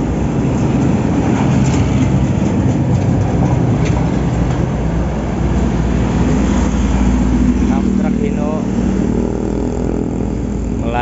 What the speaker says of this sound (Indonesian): bodi truk gandeng